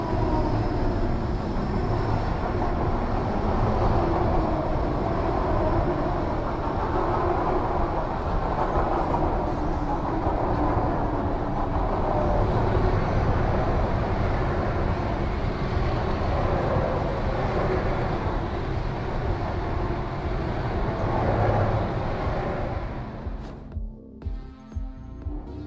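A train in the video game Kiborg rumbles along steadily with a continuous, loud rolling clatter that holds for most of the stretch before dropping away abruptly near the end.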